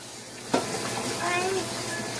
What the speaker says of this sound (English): I'll turn on the water for you